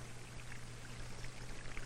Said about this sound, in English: This is a simplified model of a stream flowing into a reservoir.